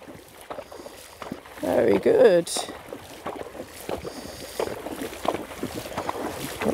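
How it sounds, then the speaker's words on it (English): A young eventing horse being introduced to water splashes through it in a short, loud burst midway, with wind noise and a rider's voice offering quiet praise around it. "let him feel the water around his legs and splashing and all the noise going on"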